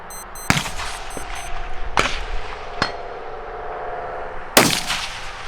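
Sharp rifle reports at a precision rifle match on the DEA Ranch in Texas: a loud shot, then two more cracks and a final loud blast, ringing out over steady outdoor background noise with faint beeps.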